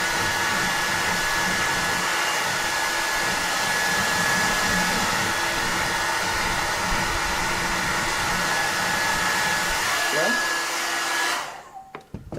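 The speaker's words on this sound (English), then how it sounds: "So go ahead and do a little hair dryer." A hair dryer blows warm air onto glued loose binding on a 1941 Martin D-28 guitar, a steady close whoosh with a faint whine that runs unbroken and then cuts off sharply near the end.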